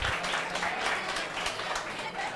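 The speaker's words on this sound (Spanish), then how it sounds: "un aplauso para los muchachos" A studio audience gives the show's guests a short, steady round of dense clapping, fairly loud and continuous throughout.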